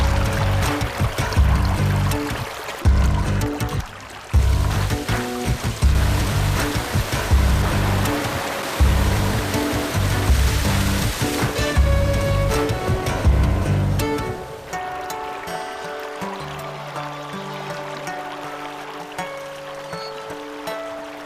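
Water flows through the ancient Falaj irrigation channels of an Arabian valley. It makes a steady, close rushing and trickling wash for most of the stretch, then thins to a quieter, sparser ripple near the end.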